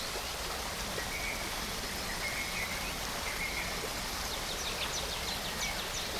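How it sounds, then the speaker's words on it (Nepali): A small trickling waterfall on a Shivapuri hike makes a soft, even wash of running water, with faint bird chirps in the background. "तुरतुरे झर्ना"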